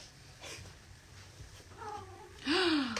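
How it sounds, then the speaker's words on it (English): A domestic cat meows to be let into a room, a few short cries followed by one louder, rising meow near the end over a quiet background. "My cat wants to come in"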